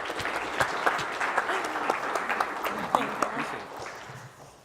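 An audience applauds to welcome Zoe to the stage at an Innovate State event at Michigan State, with steady, dense clapping that fades toward the end.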